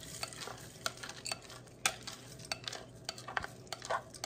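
Elderberries rattle and patter as they are poured and stirred into a kettle for jam, making scattered crackling ticks with a few sharper clicks against the metal, close and fairly quiet, with no talk.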